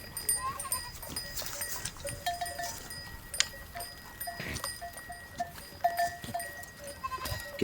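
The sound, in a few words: goat bleating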